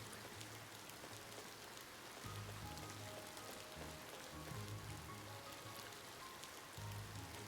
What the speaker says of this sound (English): Bummer it's raining.